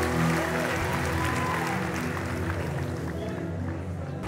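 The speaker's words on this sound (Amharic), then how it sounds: "አጨብጭቡና ቁጭ በሉ" A church congregation claps together in sustained, dense applause throughout, loud at first and easing slightly toward the end.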